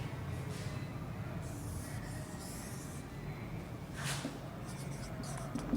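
A pen or marker scratches across a board or paper while a complex conjugate is written out by hand in a class 11 maths lesson, with several soft strokes and a louder scrape near the end over faint room noise.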